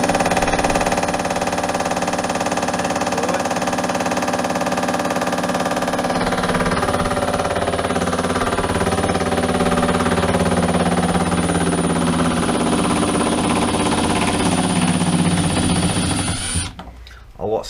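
Hydraulic impact driver on speed setting 1 running a screw into decking, a loud continuous whirring hammer with drumming from the boards, close up, cutting off near the end.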